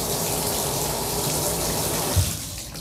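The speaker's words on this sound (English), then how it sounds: "I'm just gonna put some water in here" A bathtub tap runs steadily, pouring water into a carpet cleaner's tank with a continuous splashing rush that dips slightly near the end.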